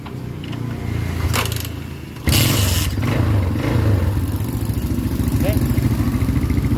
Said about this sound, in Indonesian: Kita nyalain dulu, kita diengkol.